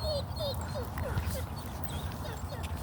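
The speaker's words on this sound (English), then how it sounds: "Look at that dog." A dog on an outdoor daytime walk gives several short yelps or barks in a row, fairly close, layered over steady street noise and a person talking.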